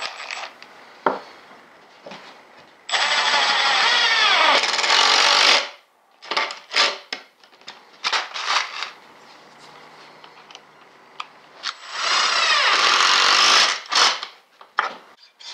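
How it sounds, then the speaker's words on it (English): Two long bursts of a high-pitched power drill whirring as pocket screws are driven into wood, separated by clattering, tapping and handling noises, with no one talking. "Now I could drill in these pocket screws."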